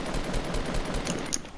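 Rapid bursts of automatic gunfire in a video game squad match, a continuous rattle of shots with no voices over it.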